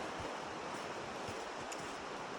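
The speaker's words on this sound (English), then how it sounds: "This whole section, you can hear the Chattooga River flowing strong, which is nice." The Chattooga River rushes strongly beside a section of the Foothills Trail, making a steady, dense, broadband roar of moving water that holds constant throughout with no voices.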